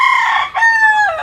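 A rooster, the family father's pet chicken, crows loudly and close by in one full cock-a-doodle-doo with a brief break midway and a drawn-out ending, with no voices over it.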